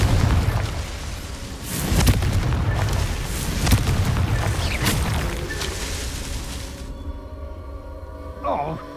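Booming spell blasts from Confringo in Hogwarts Legacy thud repeatedly over a dense, rumbling battle din, several heavy impacts spaced a second or so apart before the noise falls away.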